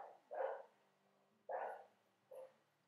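A dog barks three times in a nearby room, with the barks spaced about a second apart and moderately loud against a quiet indoor background. No one speaks.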